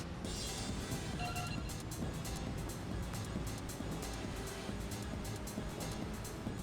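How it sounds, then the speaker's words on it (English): A car in the racing game Ridge Racer V holds a steady, droning engine and exhaust roar throughout, fairly quiet with a constant broadband rush and no clear gear changes. "You can really hear the exhaust note of the car screaming."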